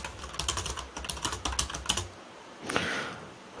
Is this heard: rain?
no